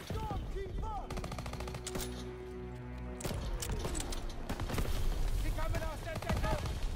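Rapid automatic gunfire rattles in the Call of Duty WWII video game, rolling in dense bursts over a constant battle din with musical tones underneath.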